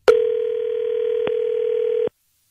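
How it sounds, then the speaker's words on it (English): A steady telephone dial tone holds for about two seconds, broken by a brief click midway and cut off at the end, heard alone with no talking during a morning radio show's call to a listener. "We're going to call her."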